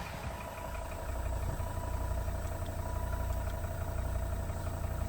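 A hot Volvo XC90 engine idles at close range with a steady, smooth low hum and faint even vibration, no voices over it.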